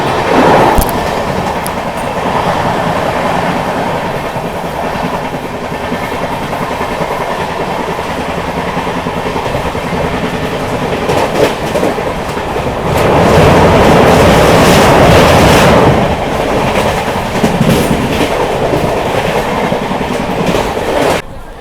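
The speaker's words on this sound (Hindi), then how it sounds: "अभी देखो लगातार 110 की स्पीड मेंटेन किए हुए है अपनी अमृत भारत एक्सप्रेस" Amrit Bharat Express on its Howrah to Delhi inaugural run, moving steadily at around 110 km/h: a loud, continuous rumble with rhythmic clickety-clack from the wheels, heard from inside the coach and swelling louder near the end.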